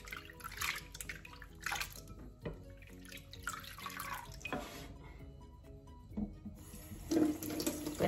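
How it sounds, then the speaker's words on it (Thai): Tap water runs into a sink while squid are rinsed by hand, a splashing, uneven stream with bursts and clatters as the flow hits the bodies and the basin, close and fairly loud, no speech. "เปิดน้ำล้างค่ะทีนี้ ล้างสัก 2-3 น้ำนะคะ"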